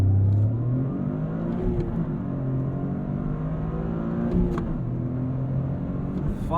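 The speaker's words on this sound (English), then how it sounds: "there is no launch control, so we'll see how good I can get this launch off the line." A 2023 Toyota GR Corolla Core launching off the line without launch control, its engine revving hard and climbing through rising pitch sweeps with gear changes, heard loud from inside the cabin.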